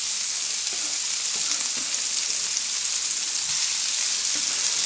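Chopped onions fry in a pan for Spanish meatballs in tomato sauce, giving a steady, loud, close hiss of sizzling oil with faint occasional taps of a utensil underneath.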